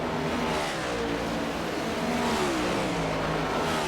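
Race cars in a sim racing game roar continuously at Homestead during an OMSRL Cup Series event, engine tones rising and shifting in a steady wash of revving with no talk.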